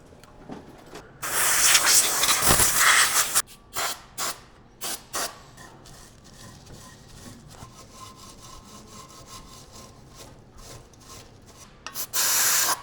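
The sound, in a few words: roughing up a surface by hand before applying JB Weld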